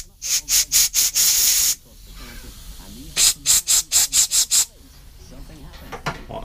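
Compressed air blasts through the small holes of a cheap lawnmower's carburetor in two close bursts of sharp hissing pulses, about five quick puffs and then a longer blast, followed after a pause by a second run of seven short blasts.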